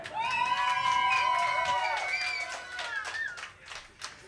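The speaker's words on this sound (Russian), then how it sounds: "Аплодисменты." An audience reacts after a performance with whoops, shouts and cheering, loud and sustained over the first couple of seconds, then thinning into scattered calls and faint claps.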